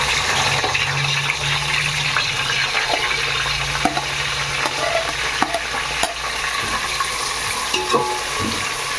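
Onions frying in oil in a pan for veg pulao, giving a steady close sizzle with occasional stirring scrapes and small pops running through the whole stretch, no voices.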